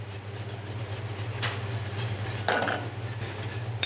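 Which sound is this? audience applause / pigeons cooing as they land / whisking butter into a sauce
whisking butter into a sauce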